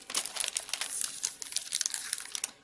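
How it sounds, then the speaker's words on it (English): Cardstock being trimmed along a fold for a handmade Valentine's Day card, a close run of crisp crinkling and cutting sounds for under three seconds, with no voice. "And let's trim the other side too."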